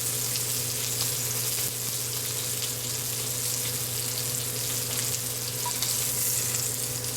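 A pork chop sears in a frying pan, giving a loud, steady, close sizzle with a constant hum underneath throughout and no voices.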